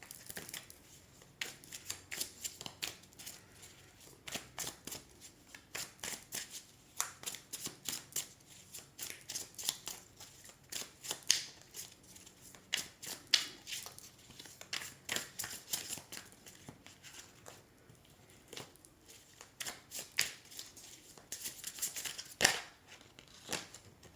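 Tarot cards being shuffled by hand close up, a long run of quiet, rapid riffling and slapping card sounds with brief pauses in between.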